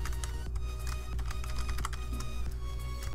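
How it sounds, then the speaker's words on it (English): Fingers tap quickly on a computer keyboard while logging into an account, a close run of light clicking keystrokes in an irregular rhythm over a low room hum. "If I can type."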